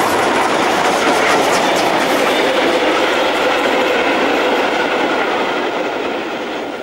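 Locomotive 160003 runs light engine back toward Bad Reichenhall on a curving mountain line with guard rails. It rolls along steadily and loudly with a continuous rumbling roar and faint clickety-clack from the rails, easing slightly near the end.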